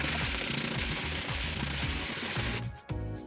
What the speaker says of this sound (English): We're now going to dry sand this first to get most of this filler out